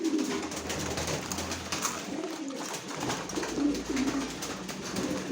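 Pigeons coo repeatedly in soft, low rolling calls while being fed grit, several birds overlapping close by with steady background noise.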